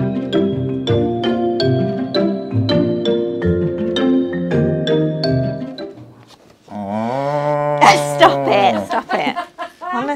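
A person imitating a cow with drawn-out moo sounds, a long low moo near the end following musical notes, with laughter breaking in around it.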